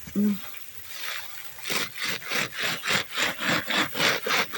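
A hand saw cuts through a large clump of sharp-bladed pampas grass with a steady back-and-forth rasp of about ten strokes close by, after a brief voice at the start.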